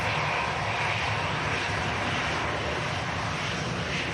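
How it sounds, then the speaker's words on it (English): A Ryanair airliner taxis at Manchester Airport, heading out for Lanzarote. Its engines give a steady, loud, broadband roar that holds an even level throughout, with no voices. "Ryanair rolling out to beautiful Lanzarote"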